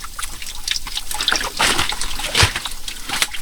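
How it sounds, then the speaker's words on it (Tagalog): Water trickles and drips over slippery calcium rock inside a cave, a continuous close splashy dribble with brief louder splashes. "Tubig pala to."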